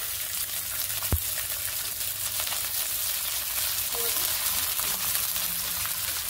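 Cooked rice added to garlic frying in oil in a pan sizzles steadily and softly throughout, with a brief sharp clink of a utensil near the start.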